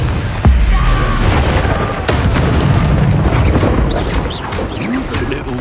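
Confringo fire spell exploding in the Hogwarts Legacy video game: a loud, sharp boom followed by rumbling crashes and scattered bursts amid ongoing battle noise.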